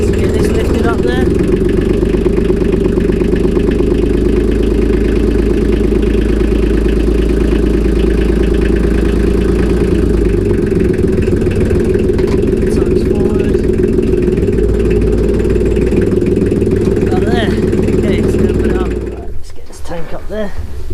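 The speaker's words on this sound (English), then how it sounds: "get the tractor, lift it up there, put the tank on the top" A tractor's engine runs steadily and loudly at close range while lifting a water tank for an off-grid solar shower, a constant low drone that cuts out near the end.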